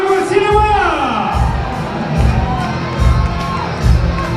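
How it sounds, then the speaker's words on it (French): A festival crowd at a costume contest prize-giving cheers and shouts loudly for the second-place group, with whoops and a voice rising over a steady thumping beat. "Et on les applaudit bien fort."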